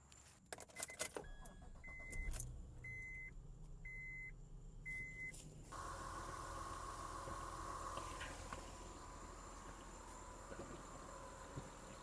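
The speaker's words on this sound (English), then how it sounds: "Oil is full, time to start the truck." Keys jangle and a few electronic beeps sound before a Honda Ridgeline pickup, just back from an oil change and VTEC solenoid leak repair, cranks and starts, then settles into a steady, quiet idle.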